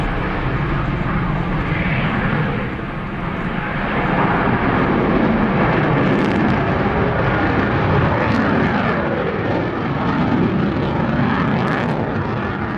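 An F-22 Raptor jet in a flying display roars continuously overhead, a loud, broad engine rush that swells and fades slightly over the length, with no voices over it.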